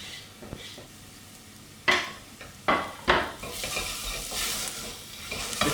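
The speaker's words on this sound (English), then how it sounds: "I'm going to add my garlic." Garlic hits hot oil in a pan with curry spices for a sweet potato and chickpea curry, giving a rising sizzle and fry, mixed with a few sharp utensil scrapes and knocks against the pan.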